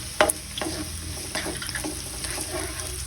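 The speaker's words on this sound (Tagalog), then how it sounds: "Ipapa-aroma lang po natin ang ating bawang at itatranslucent ng ating sibuyas." Minced garlic and white onion sautéing in a pan, a low steady sizzle with a few sharp clicks and scrapes of a utensil near the start, close by and without talk.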